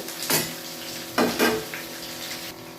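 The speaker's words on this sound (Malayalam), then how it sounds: "ഇഞ്ചി വെളുത്തുള്ളി ഒന്ന് മൂക്കുമ്പോൾ പച്ചമുളക് സവാള ഇട്ടു" Ginger, garlic, green chili and onion fry in a pan for a vegetable kurma, a steady close sizzle with a few brief louder hisses and stirring scrapes.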